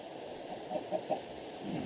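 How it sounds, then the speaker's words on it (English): Chickens in the Minecraft video game clucking, three short clucks in quick succession over a steady background hum. "Chickens got out, then I put them back."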